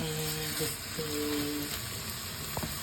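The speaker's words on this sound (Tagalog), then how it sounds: "sote ang giniling para lumabas ang manti-mantika" Ground pork sautéing in a pan to render its fat, a steady close sizzle and fry with faint stirring, while a voice talks over it.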